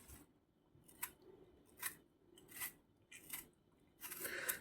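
Firm tomatoes peeled with a vegetable peeler in a home kitchen, giving faint, close scraping strokes in a loose rhythm of about six passes, the last one longer.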